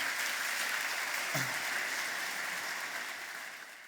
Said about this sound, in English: we're going to do one more round of applause for KP and for all of our external speakers